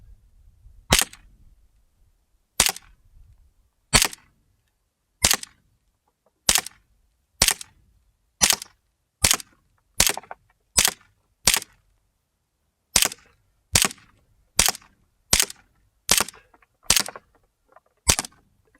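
Umarex CO2-powered Colt Commander replica pistol firing about nineteen sharp, snappy shots at a steady, slightly quickening pace, each crack loud and isolated against near silence.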